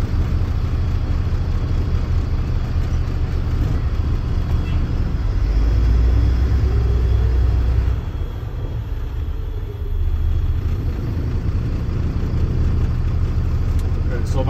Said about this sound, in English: So I release both my tractor and trailer brakes, put it into drive, and put it into a low gear.